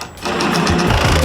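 Jigsaw cutting bowed plywood, a loud rapid buzzing chatter of the reciprocating blade that starts abruptly and runs steadily for a moment.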